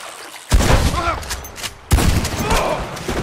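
Two heavy gunshots in the online western game Red Dead Online, each a loud close boom with a long rumbling tail, spaced about a second and a half apart, with brief voices between them.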